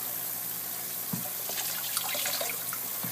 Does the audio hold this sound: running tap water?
yes